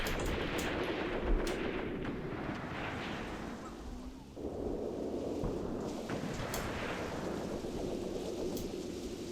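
Anti-tank rifle fire in the WWII tactics video game Graviteam Tactics: repeated heavy gunshot reports and rumbling booms over a continuous battle din, with a brief lull midway before the firing resumes.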